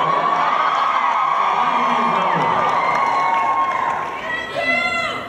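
A Comic Con panel audience in a big convention hall cheers and whoops in a loud, sustained roar, with high shrieks standing out and a brief dip before rising again.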